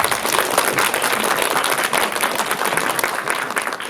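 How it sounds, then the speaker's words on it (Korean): Dense, sustained applause from a cinema audience at a film Q&A screening in a Lotte Cinema hall, many hands clapping together at steady loudness with no speech over it. "큰 박수 한번 부탁드립니다"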